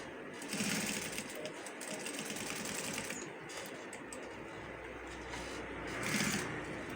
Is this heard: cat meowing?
no